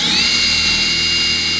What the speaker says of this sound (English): the triple hammer. Watch how fast this thing is.